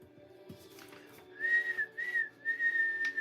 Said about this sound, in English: I'm going to learn how to whistle different songs and stuff.